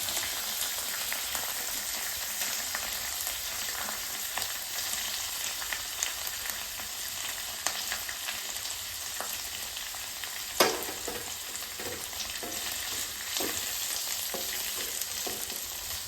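Sago khichuri sizzling as it fries and is stirred in a pan, a steady dense crackle throughout with occasional scraping clinks of the spoon, close and alone with no talking.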